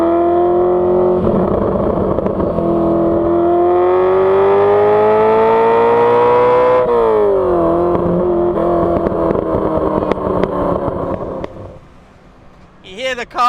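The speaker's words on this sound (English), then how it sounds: "The carbs sort of crackling and popping in the background." A Ferrari 348 engine revs hard and climbs in pitch, then drops off as the carburettors crackle and pop on the overrun, loud and close, with speech over the engine.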